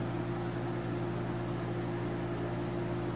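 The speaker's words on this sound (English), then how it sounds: "this is the Hamilton Beach microwave oven" A Hamilton Beach microwave oven runs with a steady, even hum and fan whir, a constant droning tone with no variation, alone and without talk.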